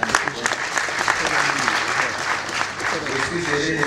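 Audience applauding steadily in a hall at a book launch for a minister's work, dense continuous clapping over nearly four seconds with voices mixed in.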